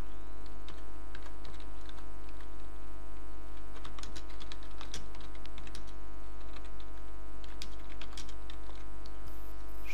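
Steady typing on a computer keyboard while entering text into a Word document, a quick run of close, crisp key clicks over a constant low hum, with no voices.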